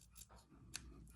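Scissors snip fabric during slow stitch work, a few soft, close crisp cuts and clicks over a quiet background.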